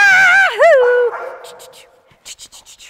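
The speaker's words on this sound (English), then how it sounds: "So big distraction with Swagger barking" A dog whines and yelps in a drawn-out rising and falling cry, followed by a quick series of short, sharp yips nearby.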